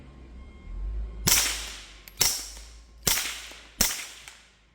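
Four sharp, evenly spaced suppressed gunshots from a rifle with a damaged, baffle-struck suppressor, each a crisp crack with a short fading tail, outdoors and fairly close.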